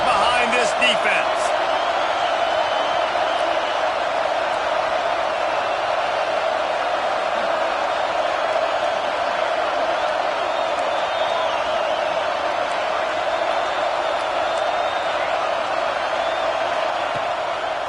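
A football stadium crowd roars steadily behind the home defense on a big third down, a dense continuous wall of distant cheering with a commentator's voice talking over it.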